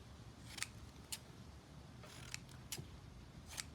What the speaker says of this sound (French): je découpe mes triangles